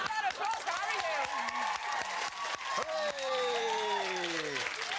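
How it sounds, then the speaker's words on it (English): A television studio audience applauds comedian Harry Hill with steady, full clapping and some cheering that runs the whole time, while voices talk over it. "Round of applause for Harry Hill."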